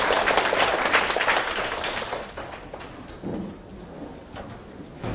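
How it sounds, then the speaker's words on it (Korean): An audience at a Buddhist lecture on Buddha statues claps to welcome a professor, a burst of applause that fades after about two seconds, followed by scattered movement and thuds in the room. "교수님을 큰 박수로 모시겠습니다."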